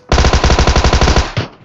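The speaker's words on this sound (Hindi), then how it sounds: "अरे फायरिंग हो रही है पीछे भाई," Rapid automatic gunfire from a video game blasts in a loud, close burst of about a dozen evenly spaced shots, then a final single shot.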